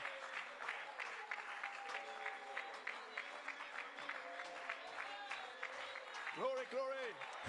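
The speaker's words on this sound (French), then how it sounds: "donnez une main d'acclamation au Seigneur" A church congregation applauds in praise of the Lord during a worship service, a dense steady clapping that carries on throughout, with voices and a brief sung or called phrase rising near the end.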